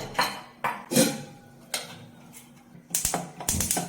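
A pressure cooker lid being handled and closed in a home kitchen while making idli sambar, a series of sharp metallic clacks and clinks spaced irregularly, with a tighter cluster of knocks near the end.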